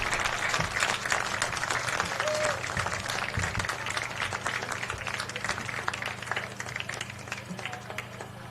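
A high school football homecoming crowd applauds in the stands, a steady dense wash of clapping that holds for several seconds and slowly thins.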